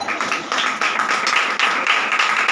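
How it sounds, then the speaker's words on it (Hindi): A church congregation claps loudly and steadily in worship, a dense, continuous wash of hand claps with no voices standing out. "खुदा की हजूरी के लिए जोरदार ताली"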